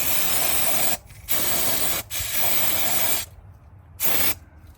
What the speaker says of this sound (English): Just have to spray it down with a little bit of brake cleaner.